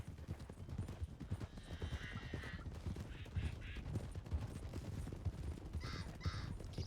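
Horses cantering in a video game, a continuous rapid clip-clop of hooves close by, with horse snorts and bird caws scattered across the scene and no talk.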